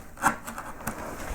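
A skew chisel cuts into a wooden pierced relief carving of a yellow flag iris, giving a few short, faint scraping nicks close by in quiet surroundings.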